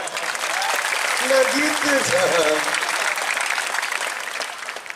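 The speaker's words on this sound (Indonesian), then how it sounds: "kok tepuk tangannya cuma segitu doang?" A mosque congregation gathered in a courtyard gives a short burst of applause, a dense steady clapping lasting several seconds, with a voice speaking over it.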